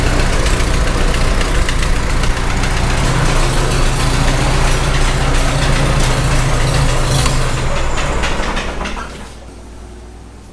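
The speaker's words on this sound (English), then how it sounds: "Turn gas off. We'll let that carburetor run it out a little bit." A Farmall H tractor engine, just rebuilt, runs steadily loud and rough with a knocking idle after the gas is shut off, then starves of fuel and dies away near the end, leaving quiet.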